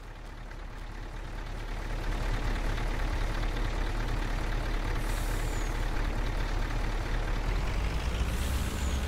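A truck engine in Farming Simulator 22 drones steadily while straining under a full load, a constant loud low rumble that swells after a quiet start, with brief hissy bursts that suggest air brakes.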